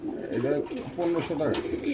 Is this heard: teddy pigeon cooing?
yes